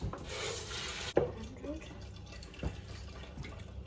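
Water poured from a jug into a mixing bowl while making Yorkshire pudding batter, a short splashing fill heard close and followed by quieter kitchen handling.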